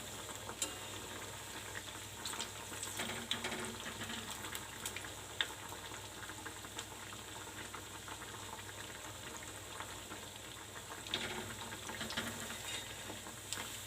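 Sabudana vada, sago patties, frying in oil in a kadhai; a soft, continuous sizzle and bubbling with occasional pops and faint utensil clicks, fairly quiet and without speech.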